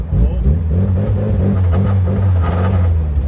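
An older, untuned Mitsubishi Lancer Evolution engine running close by with a steady deep rumble that swells slightly in a mild rev.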